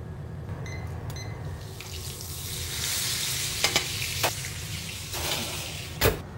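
Duck breast (magret de canard), skin side turned, frying in a pan with a steady, close sizzle, a few sharper crackles and pops rising over the constant hiss.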